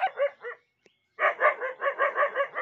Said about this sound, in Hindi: ये हमारी हमारी आंटी है इसलिए ये निन्नू उन्हें भौंक रहा।